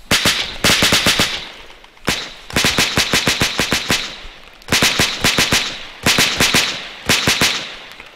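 Heavy .50 caliber machine guns fire in a military shooter game in sharp, loud, close bursts of rapid shots, about six bursts with brief pauses between them.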